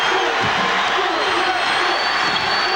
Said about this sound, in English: Tennessee crowd beginning to get a little bit antsy.